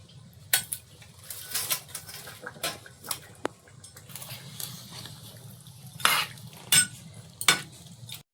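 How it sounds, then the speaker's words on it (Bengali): Fish going into a pot of boiled potatoes, heard as a low simmering bubble under several sharp metallic clanks and scrapes of a stirring utensil against the pot, close and uneven, with no talking. "আলুটা সেদ্ধ হয়ে গেছে, এবার মাছগুলো এর মধ্যে দেবো।"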